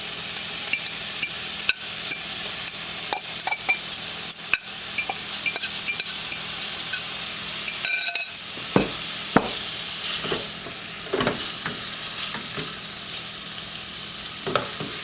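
Alligator meat frying in hot oil for Cajun fried rice, a dense continuous sizzle and crackle up close, with scattered utensil scrapes and clinks against the pan throughout and no voices.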